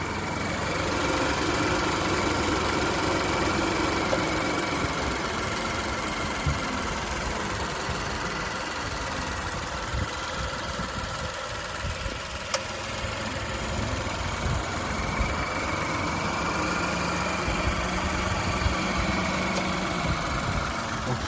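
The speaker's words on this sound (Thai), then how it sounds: "เดี๋ยวผมจะให้ฟังเสียงเครื่องนะครับผม" Nissan Almera 1.0 turbo engine idling at a steady, even hum with a faint high whine, continuous and fairly close for the whole stretch, no voices.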